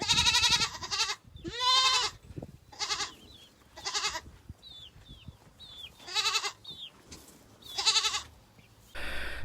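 A Nubian goat kid on a farm bleats again and again, about eight close, loud, quavering cries with short quiet gaps between them, along with a few faint chirps.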